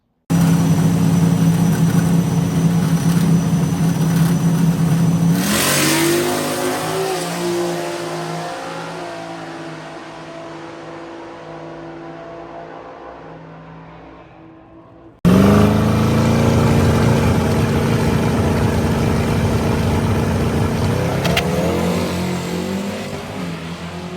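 Turbo Mustang street cars in drag race finals, a loud close engine roar that builds and falls away, then a second sudden blast of revving engine that again slowly fades, with no talking.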